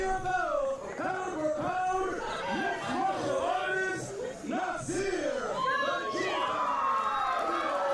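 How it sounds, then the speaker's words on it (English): Crowd at a wrestling fight chanting a wrestler's name, a dense rhythmic roar of many voices with shouts and whoops rising and falling, loud and close throughout. "the crowd chanted through the wrestler's name"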